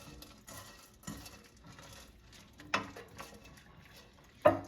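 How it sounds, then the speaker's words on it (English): Kitchen noise while making two-ingredient microwave chocolate fudge: a spoon scrapes and taps against a dish, with scattered soft clinks and two sharper knocks, close and quiet, with no talk. "now after 30 seconds, I'm going to open the microwave and just mix everything"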